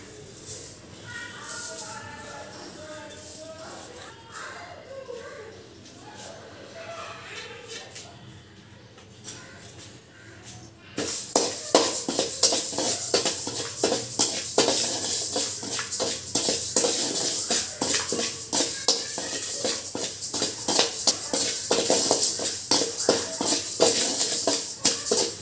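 Little millet (samai rice) dry-roasting in a pan for a health-mix powder, starting quiet with faint rustling before a steady, loud, crackly sizzle and scraping takes over and continues to the end.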